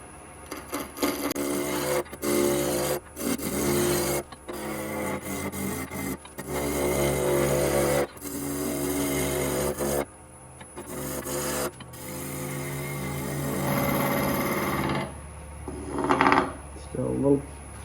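Skew chisel cutting a spinning maple workpiece on a wood lathe running at about 1100 RPM, a steady scraping, shaving rasp broken by brief pauses, close and fairly loud, with a person speaking over parts of it.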